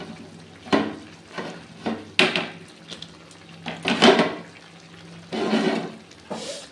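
A spoon works capsicum, onions, soybean chunks and potato around a pan for soybean dopiaza, giving irregular bursts of scraping and shuffling with short pauses between strokes.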